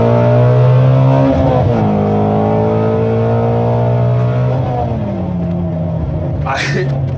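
A Ford Mustang Shelby GT350R sports car engine roars loudly, its pitch climbing and dipping as it revs, with a brief high whine near the end.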